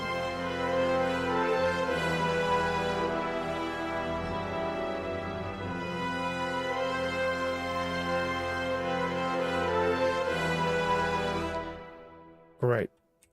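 Lord of the Rings style orchestral melody doubled by a rayer, a sustained, rich ensemble line that holds steady for several seconds, then stops abruptly before a brief final sound.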